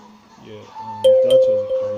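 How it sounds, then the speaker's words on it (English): A bright synthesized bell tone rings out over a looping trap beat with bass and percussion, sustaining for about a second before fading under the music. "this is like a bell sound"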